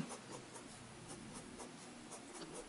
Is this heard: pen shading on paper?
yes